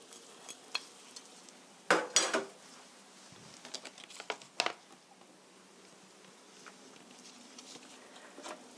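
Green peppers are stirred into bubbling mapo doufu in a pan, giving soft simmering patter broken by a few sharp scrapes and clinks of a utensil against the pan.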